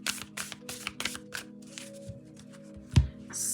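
Moon tarot cards are shuffled by hand in quick, soft papery flicks close to the mic, ending with a duller tap as the deck settles.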